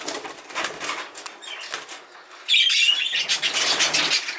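Exhibition budgies flutter inside an opened show cage, with loud, dense wingbeats close by and a few chirps; the flapping grows stronger partway through and continues with no one talking.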